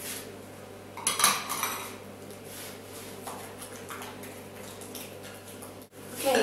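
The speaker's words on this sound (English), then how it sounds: "give it a good stir again" Egg being stirred into cocoa brownie batter in a bowl, with utensil scrapes and clinks against the bowl, a louder burst of clatter early on and steady quieter stirring after, no talk.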